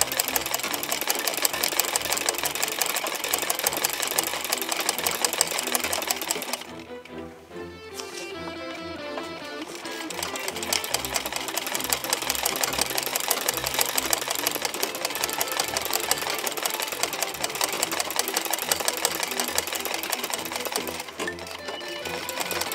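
A sewing machine embroiders a napkin, running in a fast continuous loud whir close by, briefly pausing and restarting partway through before running on steadily.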